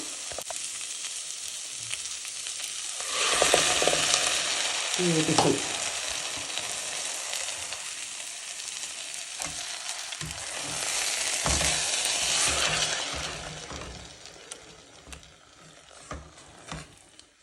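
Loud sizzling of a blended spice gravy frying in a pan with fenugreek leaves for a paneer methi curry, surging as the gravy hits the hot pan, with stirring scrapes and a brief spoken word.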